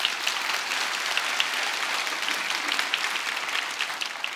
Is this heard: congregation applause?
yes